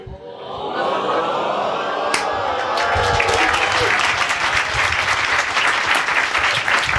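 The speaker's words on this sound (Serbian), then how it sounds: "Urnebesan aplauz." A crowd bursts into enthusiastic applause at a podcast taping. The clapping builds from a soft start into sustained loud clapping, with voices mixed underneath.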